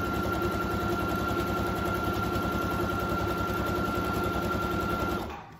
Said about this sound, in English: Come on down and sew along the 9-inch side.